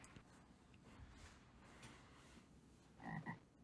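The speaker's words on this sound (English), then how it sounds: "A frog." A frog croaks a couple of times near the end, clear but brief, over soft rainforest ambience in The Amazon Trail video game.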